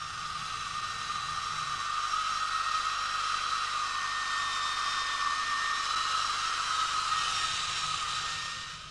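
A hair dryer blows hot air continuously, a steady whirring hiss with a high motor whine, close and even for several seconds before easing off.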